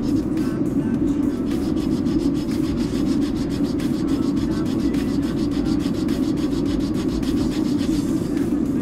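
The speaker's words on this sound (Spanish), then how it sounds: "lo que vamos a hacer es lijar la pieza también." A copper pipe piece being sanded before soldering, with a steady, close, continuous rasping scrub of abrasive on metal in quick, even strokes and no pauses.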